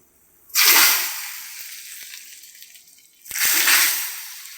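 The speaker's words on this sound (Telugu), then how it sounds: "ఇప్పుడు తాలింపు తిరగమూత పెడదాం అటు అవతలకి" A hot tempering of garlic, cumin, dried red chillies, mustard seeds, curry leaves and asafoetida poured into tomato tamarind rasam, giving two loud, close bursts of hissing sizzle that each fade away, no talking.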